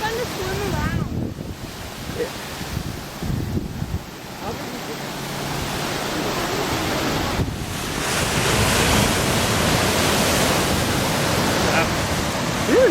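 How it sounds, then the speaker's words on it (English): Ocean surf at a private beach in Laguna Beach rolls in as a loud, continuous wash of breaking waves with heavy wind buffeting the microphone, swelling stronger toward the end. "Private beach right here."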